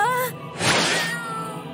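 Cartoon cat meowing in an animated Amazing Digital Circus fan video, a single drawn-out meow with rising and falling pitch, close and clear, preceded by a short tonal sound.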